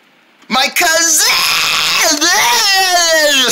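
A child yells loudly and at length, a strained, raw voice right at the microphone that cuts in after a brief quiet moment and keeps going with only a short break.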